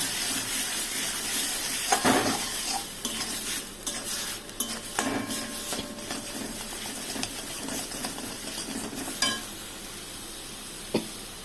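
Spices with turmeric and salt frying in a pan for a rohu fish kofta curry, with a steady sizzle under repeated scraping and stirring of a spoon against the pan, close and alone.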